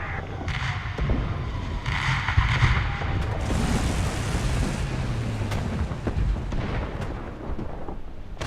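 Artillery strike in the video game War Thunder, a sustained loud rumble of deep booming explosions rolling together over several seconds, with no talk.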